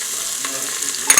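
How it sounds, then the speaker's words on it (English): Onion and hot pepper frying in an Instant Pot, a close, steady bright sizzle with a short louder stir or clatter near the end. "We'll cook the onion and the hot pepper until the edges are brown"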